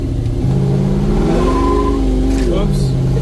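A Chevy C10 pickup with a big-block engine revs hard and climbs in pitch as the tires spin, a loud, steady engine roar close by for the whole stretch, with no one speaking over it.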